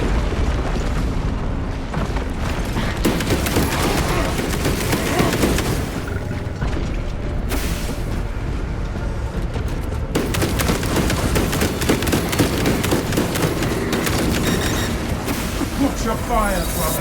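Cannons fire in Space Marine 2, a Warhammer 40,000 shooter, as heavy booming blasts roll over continuous battle noise and gunfire for the whole stretch, loud and dense with little let-up, while game voices speak over the din.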